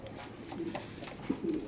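Racing pigeon cooing softly while held in the hand, a few faint low coos over a quiet background hum.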